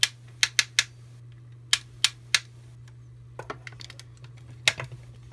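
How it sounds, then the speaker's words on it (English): Ratcheting joints on a Bandai Hi-Metal R Destroid Monster figure click as they are moved, giving sharp, close, distinct clicks in small irregular groups over a steady low hum, with fainter ticks in between. "And all the ratchets are clicky."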